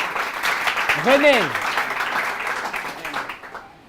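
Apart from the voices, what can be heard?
audience applause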